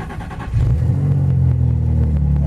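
A Nissan 350Z engine rises into a loud, steady rev as the car pulls away, keeping a deep, continuous drone under the faint tick of the cabin.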